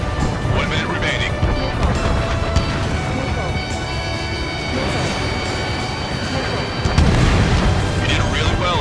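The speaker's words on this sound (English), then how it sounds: "Bandit has a lock on me. Missile hit." Missile hits and blasts in the jet combat game Ace Combat 7, dense rumbling booms layered with engine roar and music, a heavier burst near the end, with radio voices talking throughout.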